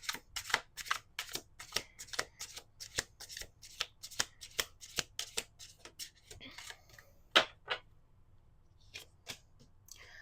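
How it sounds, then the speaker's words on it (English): Cards are shuffled close up in a long run of quick, crisp riffling bursts, with a few more scattered shuffles near the end. "Last shuffle."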